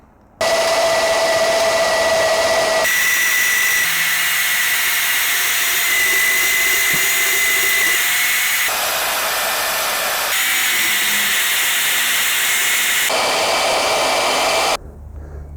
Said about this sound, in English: Now I gotta take it over to the bandsaw and start cutting.